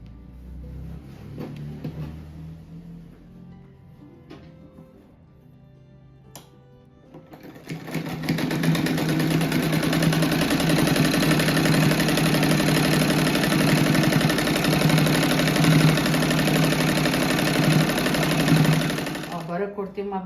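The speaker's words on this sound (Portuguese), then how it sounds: "Agora eu vou fazer essa costura no meio aqui" Domestic sewing machine stitching a seam through small fabric patchwork pieces for a rug, starting after a short spell of handling and then running as a loud, steady close whir until near the end, with a voice talking at the start.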